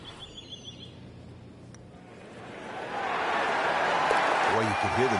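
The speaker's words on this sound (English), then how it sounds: "The crowd goes wild after that eagle." A golf crowd erupts after an eagle at a PGA Tour event, with a broad roar of cheers and applause swelling up midway and holding loud and steady, preceded by quieter ambient murmur.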